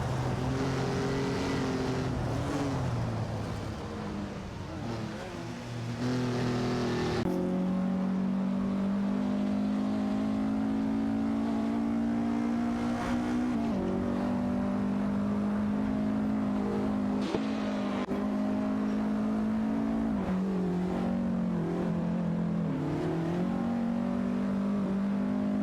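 Race cars circling in an AI racing video game, their engines a continuous loud whine with shifting pitch as cars jockey for position, with occasional abrupt changes as gears and vantage points switch.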